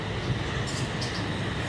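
Brief low rumble of a train at a small railway station, a steady close mechanical drone with faint higher squeaks.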